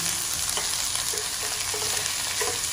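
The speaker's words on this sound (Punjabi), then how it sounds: "ਆਪਾਂ ਕੜਛੀ ਮਾਰਦੀ ਆ ਜਿੰਨਾ ਚਿਰ ਇਹ ਪਿਆਜ਼ ਆਪਣੇ ਥੋੜੇ ਜਿਹੀ ਬਰਾਊਨ ਨਹੀਂ ਹੁੰਦੇ" Onions browning in a pan, a loud continuous sizzle close by with repeated ladle scrapes and knocks as they are stirred, no talking.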